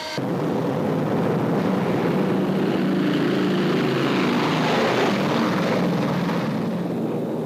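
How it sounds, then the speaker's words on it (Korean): B-29 heavy bomber propeller engines: a loud, continuous, steady drone that starts abruptly and holds at a constant level with no talk. "B-29 중폭격기가 태평양 섬에서 일본 본토까지의 원거리 폭격을 위해 특별히 제작됐습니다."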